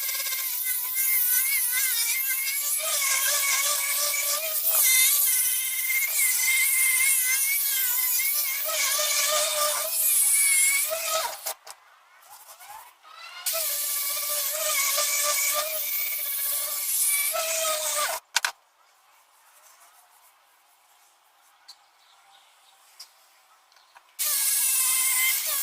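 An angle grinder sands the surface of an oak slab with a loud, sustained high whine that rises and falls as it works the wood, cutting out twice into near silence before starting up again.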